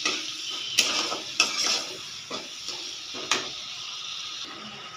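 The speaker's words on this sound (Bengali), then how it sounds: "মশলার মধ্যে হলুদ, লবণ, একটু মিষ্টি দিয়েছি। সব দিয়ে সুন্দর করে কষিয়ে নিচ্ছি।" Spices with turmeric, salt and a little sugar stir-fried in a pan, with several sharp metal spoon knocks and scrapes against the pan over a soft sizzle.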